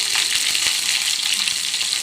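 Mustard seeds, onion and curry leaves frying in hot oil for a Tamil sambar tempering, close and loud with dense continuous sizzling, faint crackles and soft stirring.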